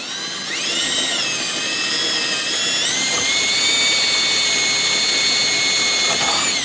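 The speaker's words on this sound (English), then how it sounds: "Just need to drill another hole in the thing." A power drill whines steadily at a high pitch, its motor speed shifting slightly as it bores a hole during a boat upholstery installation, loud and close with no voices.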